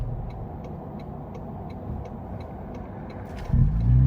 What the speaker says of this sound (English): I'll switch over to the sport mode, and then really try to do a wide open throttle blast here.